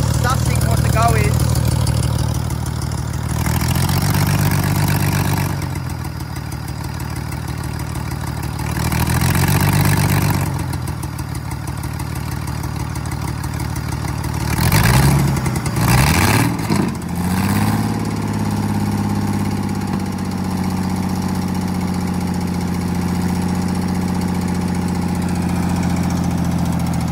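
A Ford Falcon AU engine idling unevenly with a misfire, its steady low drone broken by repeated surging bursts and knocks, loud and close, with people talking around it.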